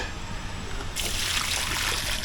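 Water pours onto plants in a backyard garden in Kingstown, starting as a soft trickle and then swelling about a second in into a steady, close splashing stream that holds to the end.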